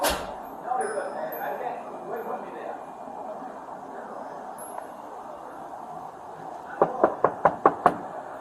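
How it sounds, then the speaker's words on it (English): Six sharp knocks on a door, evenly spaced and fairly close, following a stretch of muffled background voices and room noise. "I'm out here knocking on the door and no one's answering."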